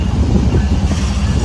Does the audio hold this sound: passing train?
yes